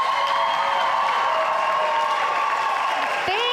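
A conference audience in Juneau gives a keynote speaker a warm welcome, with dense, loud, steady clapping that fills the whole few seconds.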